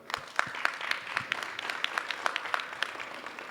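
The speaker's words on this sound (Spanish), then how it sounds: "Un aplauso, por favor." An audience at a weekly assembly applauds a presidium guest with scattered hand claps that merge into a steady, moderately loud patter from a modest crowd.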